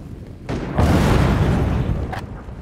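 A vehicle engine blows up in a video game firefight, giving a close, loud booming blast that swells after half a second and rumbles for about two seconds, with a short crack near the end.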